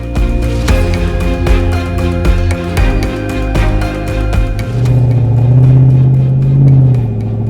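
A GM L92 6.2-litre V8 in a classic Range Rover with a six-speed automatic, revving loudly and close by, the engine note rising and swelling toward the end.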